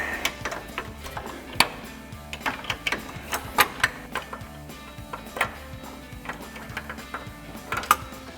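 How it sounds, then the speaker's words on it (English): Socket and wrench loosening a suspension bolt on a 1994–2004 Ford Mustang, a run of sharp metallic clicks and ratcheting ticks in an irregular rhythm, close and fairly quiet, without speech. "finish loosening up the other side with the 21mm socket, 24mm wrench"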